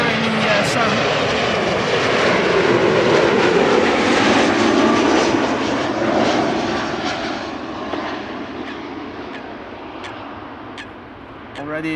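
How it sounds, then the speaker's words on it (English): SkyTeam-livery airliner arriving at Amsterdam Schiphol from Bremen, its engine roar swelling and then slowly fading, with people talking over it throughout. "Here in the foreground with number 190, SkyTeam livery. Arriving from Bremen"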